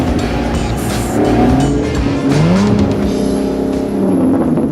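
Supercar driven fast on the road, its engine roaring loudly and close with rising and falling revs as it accelerates, with faint tire squeal and no talk over it.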